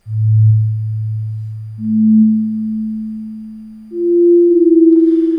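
A Yamaha Reface DX FM synthesizer plays three sustained, pure sine-like notes in a rising sequence, each fading in with a soft attack and easing off gently, the last one higher and slightly wavering, with no talking.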